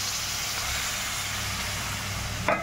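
Water is added to ginger paste and frying spice masala in a hot pan, producing a loud, continuous hissing sizzle that holds steady, then a brief clatter near the end.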